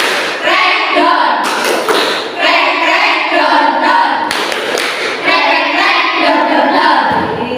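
A classroom group claps in rhythmic bursts mixed with loud, energetic Indonesian chanting of counts and "dor", the clapping and shouting coming in repeated rounds.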